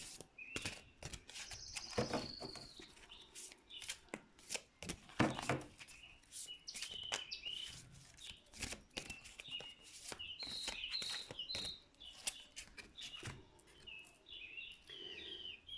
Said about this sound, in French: c'est très agréable d'entendre ces chants d'oiseaux, ces chants divers d'oiseaux